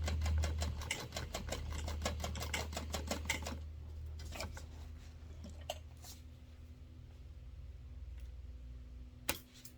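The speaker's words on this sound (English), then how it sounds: "And then sew down that line." A sewing machine stitches down the card slot lines of a wallet, a fast steady run of needle clicks for about four seconds, then slowing to sparse ticks and a few isolated taps.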